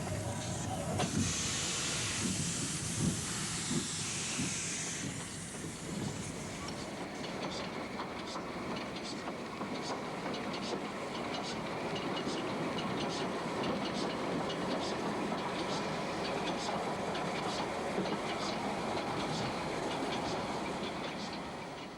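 Train pulling out at Porto station, with a loud hiss of steam at first, then a steady rolling rumble and regular wheel clicks over rail joints, continuous and fairly close.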